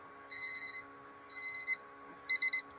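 A debate timer alarm beeps in three separate bursts of rapid, high electronic pulses, loud and clear with no voices over it.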